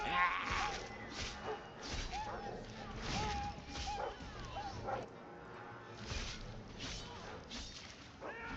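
Dogs attacking in Dragon Age II, repeated snarling barks and yips close by amid clashing combat swooshes and thuds, with speech mixed in.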